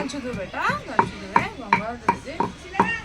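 Food is pounded with a pestle in a home kitchen during a power cut, giving about seven sharp, evenly spaced thuds, close and loud, with a voice murmuring between the strikes.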